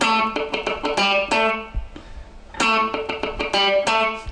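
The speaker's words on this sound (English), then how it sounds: "it's those little clicks in between that are so important to the rhythm of funk" An electric guitar plays a choppy funk riff, with bright chord stabs broken up by quick muted dead-note clicks in a tight rhythm, repeated twice with a brief pause between.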